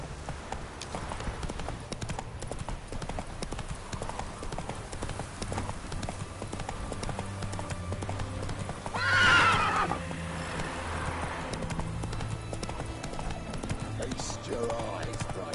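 A horse gallops with steady clip-clop hoofbeats in The Witcher 3 on PS5, and one loud neigh rings out midway over the continuous rhythm.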